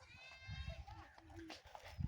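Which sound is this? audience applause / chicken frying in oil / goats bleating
goats bleating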